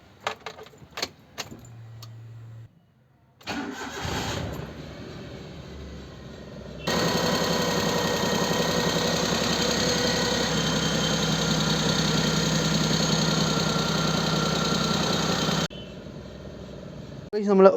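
A serviced Maruti Alto is started after keys jangle and a brief crank, then the engine settles into a steady, close idle that runs for about nine seconds.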